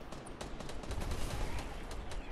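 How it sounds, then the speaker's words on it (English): Continuous rapid shots crackle through a Fortnite Battle Royale match, a dense, fairly quiet stream of repeated reports with no voice over it. "someone shooting snowballs at me."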